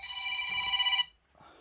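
A telephone rings loudly and close by, one sustained electronic ring burst lasting about a second, then cutting off into near quiet with a faint trailing sound.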